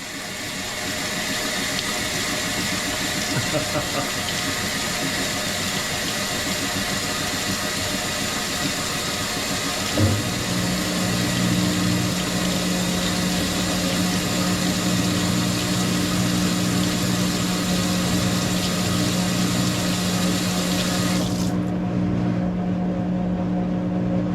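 A Maytag top-load washing machine runs its rinse and spin cycle, a steady close mechanical hum and whir with a low motor drone that starts partway through and continues to the end.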